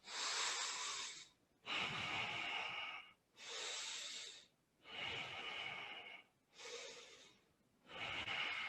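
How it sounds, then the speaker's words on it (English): Slow, deep breaths in and out during a yoga session, six long airy breaths separated by short pauses, close and fairly quiet with no talk. "just keep breathing, breathe out."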